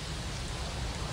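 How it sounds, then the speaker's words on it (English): Steady rain falls all day on a cold outdoor gathering, a dense, even hiss of drops on surfaces with no gaps and no voices. "It's been raining all day."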